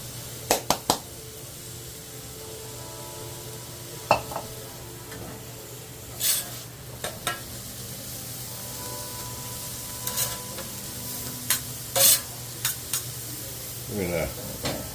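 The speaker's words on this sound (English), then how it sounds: "And we're going to throw our diced red peppers." Diced red peppers sizzle in wagyu beef tallow on a STEELMADE flat top grill, a steady hiss with scattered sharp clicks and scrapes of a spatula against the steel. Talk is faint or absent.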